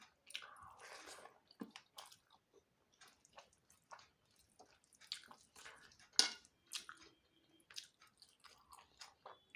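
Close, quiet chewing of a simple meal of fish and rice: soft, wet squishing bites at an irregular pace, with small clicks and pauses between mouthfuls and no talk.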